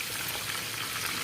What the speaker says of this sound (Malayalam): പപ്പടം പൊരിക്കട്ടെ